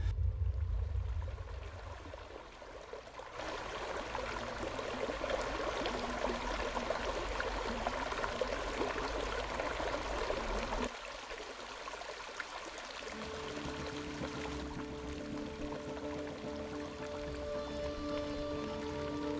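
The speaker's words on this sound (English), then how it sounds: "Here we're heading up a cold mountain stream," A cold, fast, clear mountain stream flows through lush Tasmanian woodland, a steady broadband wash of running water that holds at an even loudness throughout, with no voices.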